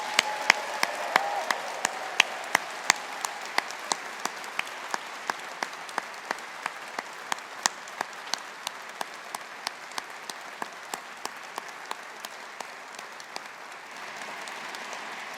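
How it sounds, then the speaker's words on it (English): Applause for graduates fills a Faculty of Science graduation ceremony hall, a dense, distant patter of many hands, with sharp individual claps and whistles cutting through steadily before fading slightly at the end. "let's have another round of applause for all of our fantastic graduates"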